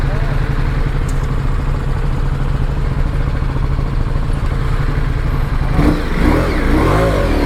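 A motorcycle engine runs steadily and close at a loud, rough idle and low rev near Ajloun Castle, with a brief burst of louder revving and clatter near the end.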